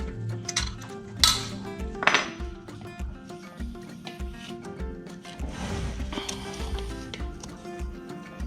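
Metal parts clink and clatter as the crankshaft is pulled out of a disassembled Predator 212 small engine, with a few sharp close knocks and scraping rattles, no talk over them.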